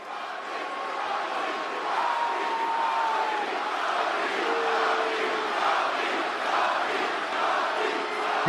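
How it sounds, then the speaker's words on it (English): A packed wrestling arena crowd in Glendale roars loudly and continuously as The Rock returns, a dense, sustained wall of cheering and shouting with no break. "The Rock has come back to whatever city they're in and the crowd goes crazy"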